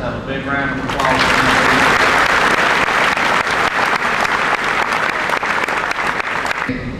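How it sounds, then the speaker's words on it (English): Loud, dense audience applause at a name-reading ceremony, swelling after a brief opening and holding steady for several seconds before tapering, with a voice briefly audible at the start. "applause"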